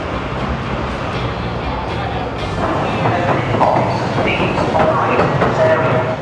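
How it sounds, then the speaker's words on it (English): Heavy rumbling of a train passing on a track above a London street market, a loud continuous roar with metallic screeches over busy outdoor bustle and voices. "So it's a marketplace with the train on top, which is very noisy."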